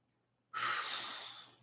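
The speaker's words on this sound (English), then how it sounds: "Breathing." A single long, audible exhale during a gentle hand-tapping relaxation exercise, starting abruptly and fading slowly over more than a second, breathy and close with no talking.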